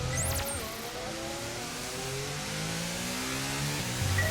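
A Formula 1 car in the F1 22 video game runs a free-practice lap at the Bahrain Grand Prix, its engine a steady, high-pitched whine that shifts smoothly through gears, with a brief tire squeal at the start.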